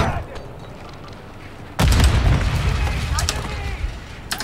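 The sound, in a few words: grenade explosion in Call of Duty video game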